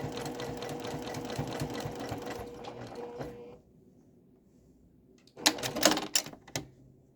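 Sewing machine stitching a pillowcase seam, a fast mechanical whir of needle strokes that stops abruptly and then starts again in a short second run, close and clear.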